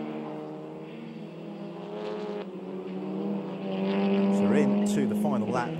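SEAT León Eurocup race cars lapping the Nürburgring circuit, engines droning steadily and rising in pitch as the cars close in, with a commentator talking over the sound throughout.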